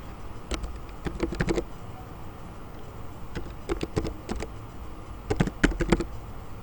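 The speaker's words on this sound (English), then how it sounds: "I type my username and password." Someone types a username and password on a computer keyboard, producing three short bursts of quick, close key clicks separated by brief pauses over quiet room tone.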